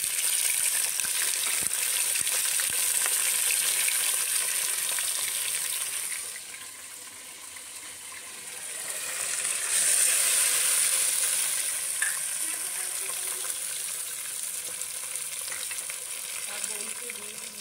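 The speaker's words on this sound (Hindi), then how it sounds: "हमने प्याज तवे में डाल दिया, अब आप देखें कि हमें इसे कैसे पकाते हैं।" Onions fry in oil on a tawa for a biryani, giving a steady, close sizzle throughout with a slight dip midway before the hiss swells again, with no talk.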